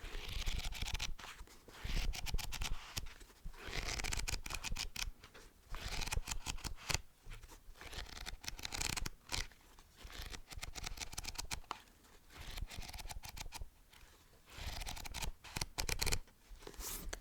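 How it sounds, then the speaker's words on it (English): Rapid papery flicks and rustles continue for a long stretch as the pages of a Diary of a Wimpy Kid book are riffled through, close and dense with brief pauses. "Get some page turning real quick."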